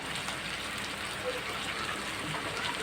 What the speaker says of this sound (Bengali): আস্তে আস্তে সুন্দর করে কষায় নেব।